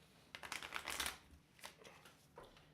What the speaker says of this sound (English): let's just quickly do like a trade shuffle